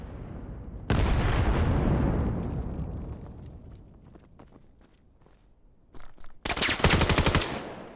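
Rapid automatic gunfire in the VR shooter game VAIL during a competitive Joust match, a loud sustained burst that fades into scattered shots and footsteps, then another sharp, dense volley near the end.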